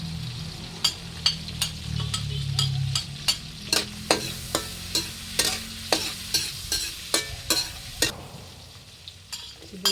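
Garlic sizzles in hot oil in a pan for Filipino adobong porkchop, with a steady fry under a regular run of sharp spatula clicks and scrapes against the pan, close and fairly loud.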